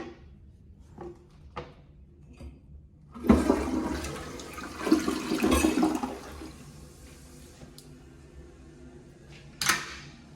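American Standard Champion 4 toilet with its original flush valve flushing in a campground restroom: a sharp loud whoosh of rushing water lasting a few seconds, then quieter refill trickling and a brief clunk near the end.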